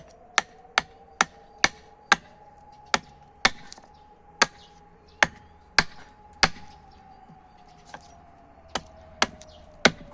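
Sharp chopping strikes into wood, carving a kitchen spatula, land about every half second, with a steady air-raid siren wailing in the background.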